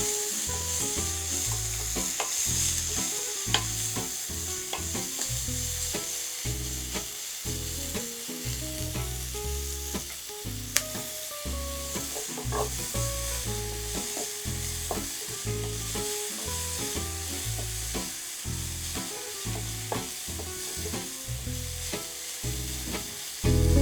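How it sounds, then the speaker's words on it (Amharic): Onions sizzle steadily in a hot pan, broken by frequent close scraping and stirring strokes of a spoon against the metal, continuous and fairly loud with no voices. "ትንሽ ሽንኩርታችንን ካቁላላን በኋላ ቲማቲማችንን እንጨምራለን።"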